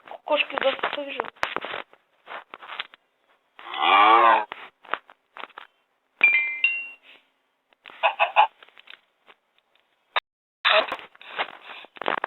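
Cows mooing in the Minecraft video game, several drawn-out game moos spaced through the clip with stretches of quiet and bits of voice between them.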